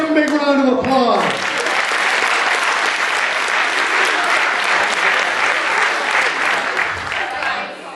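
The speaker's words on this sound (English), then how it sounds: "Give him a big round of applause." An audience at a university event breaks into loud, dense applause that stays strong throughout. A brief voice is heard at the very start before the clapping takes over.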